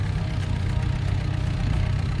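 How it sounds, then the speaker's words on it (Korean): A small truck fitted with oversized tractor-style wheels rolls into a cabbage field, its engine giving a steady, close, low rumble with a constant mid-range hum. "소형 트럭 한 대가 들어온다."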